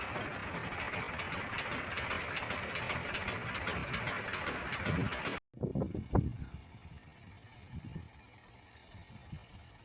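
A steady mechanical drone of a dewatering motor pump at a construction site fills the first half, then cuts out abruptly, leaving quieter irregular knocks and rumbles.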